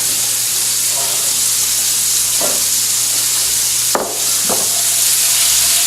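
Bacon frying in a pan gives a steady broadband sizzle throughout, with a low mains-like hum beneath and a few brief clatters of a utensil stirring near the end.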